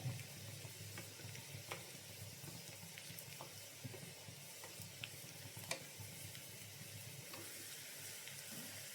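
Onion, chillies and curry leaves fry in hot oil for a Kerala cucumber and lentil curry tempering, giving a continuous close sizzle dotted with small crackles and pops, with no talking.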